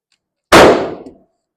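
A single loud, close pistol shot on a U.S. Navy qualification range, a sharp crack with a short decaying ring-off and nothing else around it.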